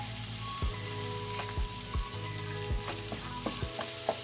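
Tomato frying in a pan for beef giniling menudo gives a steady close sizzle, broken by a few regular scraping stirs, with no talking.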